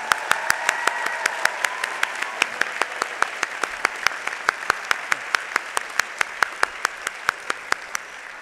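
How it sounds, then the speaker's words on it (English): A commencement audience at a law school ceremony claps for JD graduates, a dense steady wash of applause with sharp regular claps standing out close by, lasting throughout. "we never had a round of applause for our JD students"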